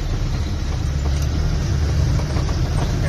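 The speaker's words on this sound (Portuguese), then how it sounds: "O caminhão vem roçando o barranco." A Mercedes-Benz 1620 truck with a tall, fully loaded dump body drives slowly along a dirt embankment, its diesel engine giving a steady, loud, close rumble without pause.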